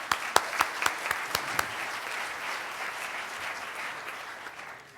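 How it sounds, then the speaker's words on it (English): A room of Rotary Club members gives a brief round of applause that opens with a few sharp, separate claps, then swells into dense clapping before fading out. "let's give those people a round of applause"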